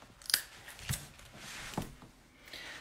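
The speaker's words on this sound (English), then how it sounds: "I'm going to tape that end closed" Tape is pulled and pressed to seal one end of a paper rocket: a few quiet, sharp crinkles and snips in a near, otherwise quiet room, with no talk.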